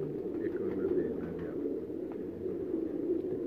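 Pigeons coo steadily at a rooftop loft in Faisalabad, a continuous low rolling murmur from several birds held at an even level throughout, with no talking.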